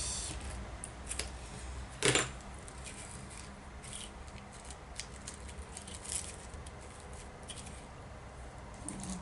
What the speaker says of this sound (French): Et là, je vais venir couper.